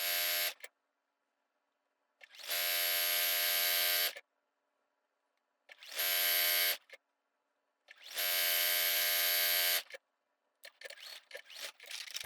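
A sewing machine back-stitches a seam on a flannel quilted table runner, running in four steady bursts of motor whir separated by silent pauses, followed by faint handling clicks.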